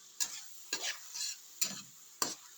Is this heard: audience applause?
no